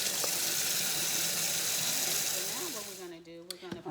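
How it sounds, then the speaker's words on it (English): Tap water rinses raw pork ribs in a kitchen sink as a steady, close hiss of running water that fades out near the end, followed by a few clinks and a voice. "Just rinsing my meat real good."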